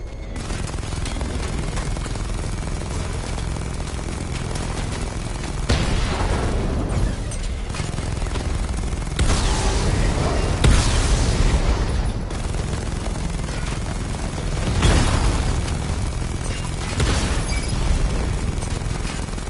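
Missile barrage explosions from the Batman Arkham Knight Batmobile come as a series of heavy booms and crackling bursts over a steady roar of combat noise, with several distinct volleys spaced a few seconds apart.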